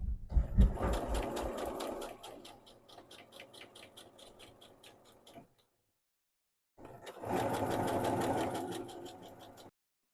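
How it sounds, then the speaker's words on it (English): A sewing machine runs edge stitching along a fabric pocket bag, a fast steady mechanical chatter in two near runs separated by a short silent pause. "we just have to go in through this way, and then we can do our edge stitch here"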